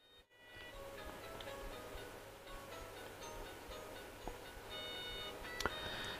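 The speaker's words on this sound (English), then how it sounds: "Everyone's had a notification." A notification beep chimes in a quiet room: a few thin, high tones sounding softly over low background hum, with a brighter blip near the end.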